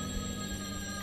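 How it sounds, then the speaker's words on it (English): A phone ringing inside the indie video game The Hungry Fly, a steady electronic ring tone holding evenly through the short moment, clear and alone without any talk. "Is that a phone I hear?"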